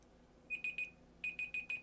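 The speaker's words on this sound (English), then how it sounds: "That was my timer." Electronic timer alarm beeping in two bursts, three quick beeps then four more after a short pause, thin and shrill over near silence.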